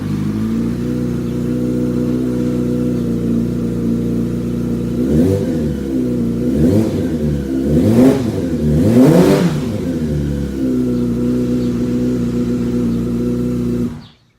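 A 2005 Yamaha R6 motorcycle engine idles steadily and loud up close, then blips through several quick revs in a row before settling back to idle and cutting off at the end.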